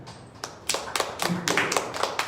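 A church congregation claps in praise, starting with a few scattered claps and swelling into a brisk, uneven burst of hand claps nearby.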